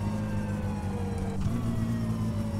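A car engine in the game My Summer Car runs loud at high revs and shifts pitch slightly midway, then keeps droning.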